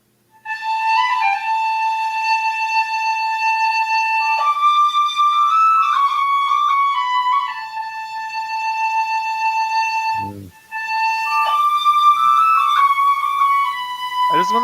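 A handmade whistle is blown alone, loud and close, in long sustained clear tones that step between pitches, with a brief break near the end before the melody resumes.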